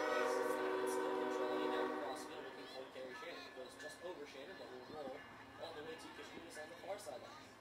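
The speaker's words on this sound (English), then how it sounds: "Hello, passing freight train." A freight train horn sounds in the distance near a college women's soccer match, steady harmonic blasts over the first two seconds, then fading under crowd noise and ambient chatter.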